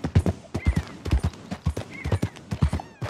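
A horse's hooves clip-clop at a quick uneven gait in Red Dead Redemption 2, close and distinct, with a couple of whinnies between the steps.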